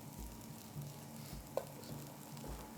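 Spicy Middle Eastern batata harra potatoes fry in a pan and are stirred, giving a soft, steady sizzle with occasional light knocks from the spoon, fairly quiet and without talk.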